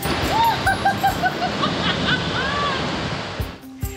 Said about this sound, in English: what we're hearing is birds, we're hearing water